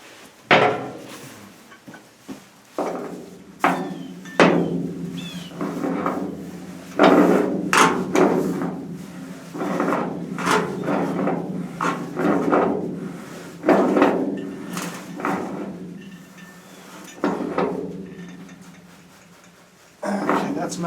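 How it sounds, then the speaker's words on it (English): A pipe wrench tightens a threaded pipe fitting for a pump, giving repeated sharp metallic clanks and knocks at an uneven pace, close by, over a low steady hum with some voice-like sound. "And tighten it up with the pipe wrench."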